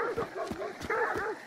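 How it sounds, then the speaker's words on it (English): Dogs barking in the video game Hunt: Showdown, a series of rapid close yips and barks in quick rhythm, with a player talking over them. "I don't care too much about those dogs"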